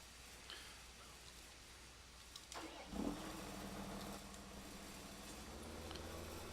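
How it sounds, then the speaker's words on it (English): In Farming Simulator 17, a tractor engine cranks with a short burst and catches. It then settles into a steady, low mid-range idle, heard alone and at moderate distance. "Guess we'll use this tractor."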